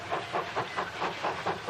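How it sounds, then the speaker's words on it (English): A preserved steam locomotive on the Richmond Vale line chuffs along with a steady broadband hiss, rhythmic pulses about every quarter second, moderately close and with no voices. "A steam locomotive will talk to you as you're going along."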